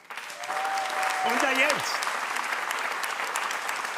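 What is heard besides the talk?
studio audience applause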